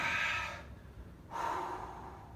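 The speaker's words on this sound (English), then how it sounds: "Big breath in." A person breathing during a lat stretch, a soft close exhale followed by a short pause and then a deep breath drawn in, quiet and alone.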